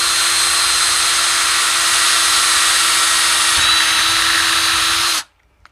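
A power drill whines steadily and loudly, driving a bolt into a sewer-pipe drum, close by, then cuts off abruptly into near silence.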